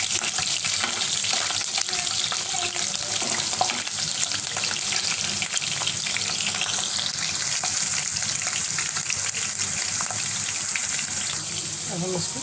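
Chopped capsicum fries in an oil-filled kadhai, sizzling loudly and steadily close by, with occasional stirring scrapes and clinks and brief quiet speech.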